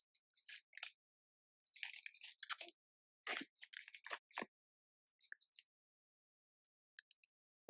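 Crunchy Hokkaido premium potato fry snacks being chewed up close, in bursts of crisp crunching bites separated by short pauses, with no talking.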